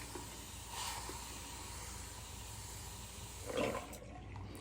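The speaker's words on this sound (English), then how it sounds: "I'm going to empty out my sink" Water drains out of a bathroom sink with a steady, soft hiss and gurgle, low in level and continuous, swelling briefly near the end.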